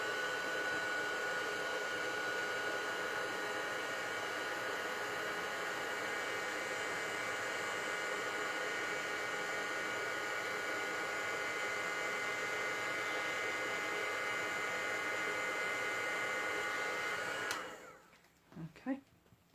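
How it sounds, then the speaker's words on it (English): A heat gun blows with a constant, close, roaring whoosh while heating embossing powder in a stamping craft session, running steadily for most of the clip before cutting off into a few faint handling sounds. "So excuse the heat gun just for a second."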